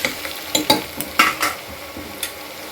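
A utensil scrapes and stirs onions and potatoes in a pan, several short bursts of clatter over a faint steady sizzle.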